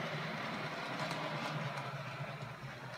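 An OO gauge model Peckett 0-4-0 test train runs along layout track with a steady, faint mechanical whirr and soft rail clicks, continuous throughout and with no talking.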